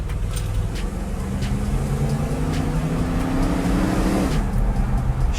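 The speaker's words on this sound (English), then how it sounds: "We'll give it some gas." A 1962 Ford Thunderbird's engine builds under throttle, a low droning tone rising steadily in pitch before easing off near the end, heard from inside the car with no talk.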